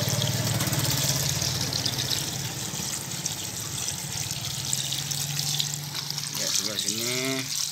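Water poured over produce to wet it, a continuous splashing, running-water hiss throughout with a low engine-like hum beneath, and a voice speaking near the end.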